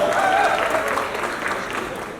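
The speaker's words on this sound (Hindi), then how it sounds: "जोरदार ताली आपके लिए." An audience at a film trailer launch event at Gaiety claps in a steady, dense wash of applause that lasts the whole moment, with a brief whistle-like tone and crowd voices mixed in.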